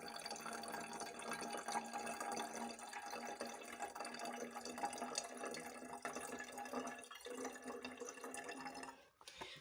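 Sulfuric acid is poured into a container, a steady faint liquid pour with a soft trickling, splashing texture that runs continuously for about nine seconds before tapering off.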